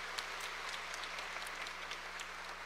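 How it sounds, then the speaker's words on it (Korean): A church congregation applauds together during a Sunday young adults' worship service held in a cinema, a steady dense patter of many hands clapping throughout with no talk over it. "우리 하나님께 그리고 우리 목사님께 감사의 박수 한번 했으면 좋겠습니다"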